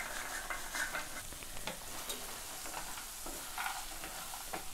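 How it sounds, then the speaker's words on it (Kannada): A spoon stirs fried chana into a chilli mixture in a hot pan, with a steady sizzle and a string of scraping, clattering stirs close by and alone. "ಈಗ ನಾವು ಕರೆದಿರೋ ಕಾಳನ್ನ ಹಾಕಿ ಚೆನ್ನಾಗಿ ಎಲ್ಲ ಇವಾಗ ಮಿಕ್ಸ್ ಮಾಡಬೇಕು"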